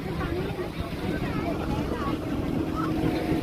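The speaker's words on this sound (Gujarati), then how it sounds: "speed boat" A speedboat engine drones out on the sea off a beach in Dwarka, a steady motor hum blended with wind and water while a person talks over it.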